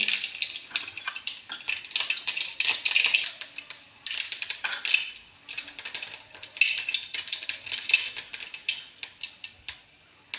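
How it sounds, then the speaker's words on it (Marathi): Mustard seeds in hot oil crackle and sputter in dense bursts of bright popping, close and continuous with brief pauses, without voices. "थोडीशी मोहरी घालून घेते"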